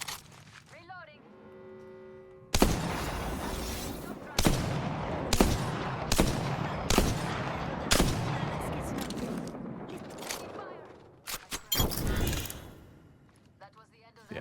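Gunfire in the video game Apex Legends comes as a string of sharp, loud shots spaced a second or so apart, then a tighter burst near the end, with quieter handling clicks in between.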